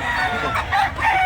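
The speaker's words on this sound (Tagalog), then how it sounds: "Napakaraming manok." Chickens and roosters clucking and crowing close by in a crowded fowl gathering, a quick busy burst of overlapping calls.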